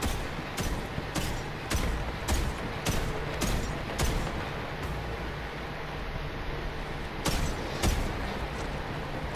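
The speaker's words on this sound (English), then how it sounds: "I hear gunshots, but where?" Distant gunshots pop repeatedly in Borderlands 3, irregular sharp cracks over a steady dense background rumble, some clustered close together and others spaced apart.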